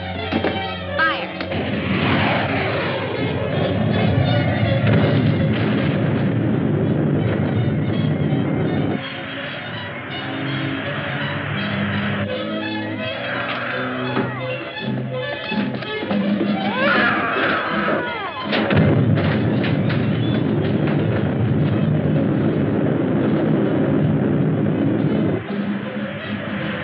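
Artillery guns firing in a 1954 science-fiction film, a loud continuous din of booming blasts and rumbling under an orchestral score, with dense mixed layers filling the whole stretch.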